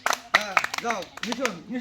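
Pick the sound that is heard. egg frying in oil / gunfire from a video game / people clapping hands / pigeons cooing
people clapping hands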